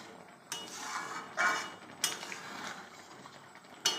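Dal with rotis being stirred in a cooking pot, a few separate metallic scrapes and knocks of a utensil against the pot at irregular intervals, soft and close, with no one speaking.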